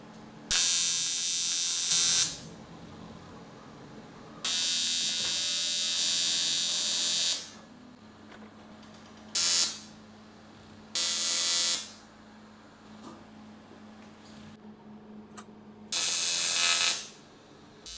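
Aluminum cable guides for a compact electric cargo bike frame being machined: repeated loud, harsh buzzing bursts of a cutting tool, each lasting one to three seconds, separated by quieter gaps of a low motor hum.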